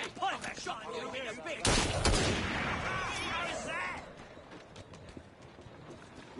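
A musket volley erupts in Assassin's Creed Syndicate, one sharp loud burst of massed gunfire amid shouting voices, with hoofbeats and street commotion trailing behind.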